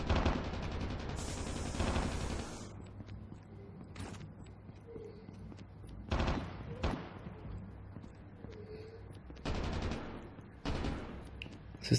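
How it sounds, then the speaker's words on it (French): Gunfire in a Call of Duty battle royale match: several bursts of rapid automatic shots, some close and sharp, others thinner and farther off, separated by quieter stretches of ambient wind and hum. "Ça se tire dessus"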